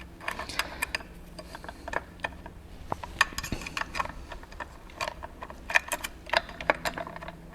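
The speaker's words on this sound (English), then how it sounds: "I need to hold on to this whilst I remove the second bolt." A bolt being removed from a Simply 16 machine, heard as small close metallic ticks, clinks and scraping taps scattered irregularly over a quiet background.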